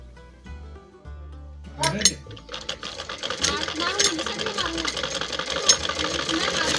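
A tailor's sewing machine starts after a quiet opening, then whirs and clatters rhythmically and loudly up close, with faint voices in the background.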